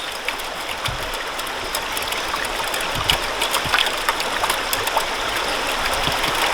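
Water poured steadily through a gold sluice, washing over muddy dirt and sand, makes a continuous close rushing trickle with small splashes throughout.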